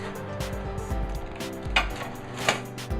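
Metal clatter and knocks as a coconut cake tin is pulled out of a kitchen oven, a few sharp clanks and scrapes close by, including two brighter metallic hits near the end.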